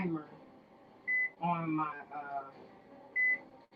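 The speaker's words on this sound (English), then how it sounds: "if you have a microwave, you can put your timer on the microwave" A microwave oven keypad gives two short, clear electronic beeps while a timer is set, heard under a person talking in a kitchen.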